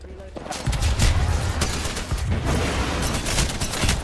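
Dual Spitfire light machine guns firing in the video game Apex Legends: loud, dense automatic fire in sustained, rapid bursts with heavy low thumps, running nearly the whole time.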